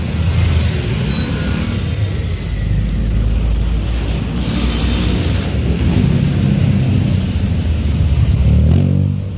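Heavy street traffic in Zapote after a fire, a dense steady rumble of car and motorcycle engines close by with revving swells, continuous throughout.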